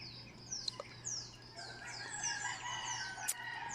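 A rooster crows faintly in the distance amid a chorus of chirping birds at about 5 a.m. before dawn in Iligan, with a low steady hum underneath.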